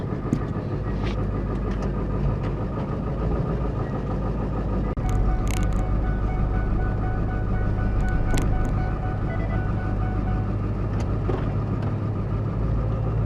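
A Ford Power Stroke diesel engine running with a misfire gives a continuous, loud, rough drone that stays close and steady throughout, with a few faint knocks over it.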